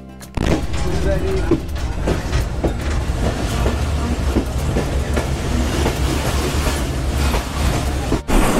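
A moving passenger train leaving Phulbari station rattles and clacks loudly on the rails with a continuous rumbling roar and rhythmic wheel clatter, heard from inside the carriage as it sways and jolts.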